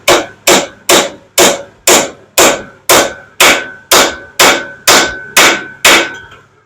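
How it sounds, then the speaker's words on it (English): A ball peen hammer taps on an engine valve, a dozen loud, evenly spaced metallic strikes about half a second apart, each ringing briefly, close and alone. "hold it on the valve and then tap on it with my ball peen just so I don't mess the valve up"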